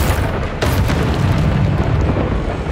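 A Confringo spell explosion in the video game Hogwarts Legacy erupts as a loud, sustained rumbling boom that swells just after the start and rolls on heavily without fading.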